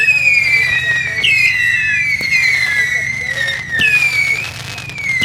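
Fireworks burst and whistle at an outdoor display, with rising shrieking whistles and sharp cracks and booms in quick succession, loud and close, with people talking over them.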